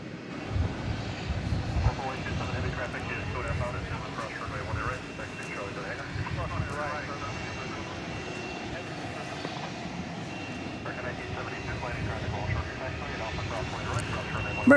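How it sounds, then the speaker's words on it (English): An American Airlines airliner arriving from Austin, Texas, on final approach to DFW Airport at night, a steady engine rumble held under continuous talking throughout. "American Airlines Flight 514 from Austin, Texas is on final approach now"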